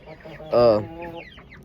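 Chickens on a small farm with black Australorp hens: a short, loud cluck rises above quieter background clucking and murmur, brief and close.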